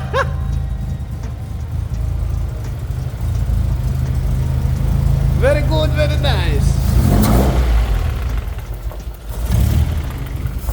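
A 1988 Toyota GLi Twincam 1600 16v engine with an oil leak idles with a steady low drone, then revs up and settles back, close by, with people talking over it.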